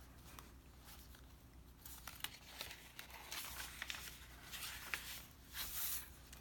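Sheets of ledger paper are handled and flipped in a craft flip-through, giving intermittent crinkles, rustles and soft taps that come in bursts, close to the microphone with no talk.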